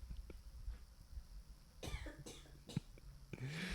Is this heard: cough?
yes